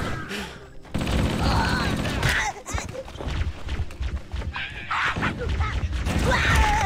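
Rapid automatic gunfire in Halo: Combat Evolved, loud and close, with bursts of shots and clattering mechanical sounds that continue with short breaks, while a voice talks over it.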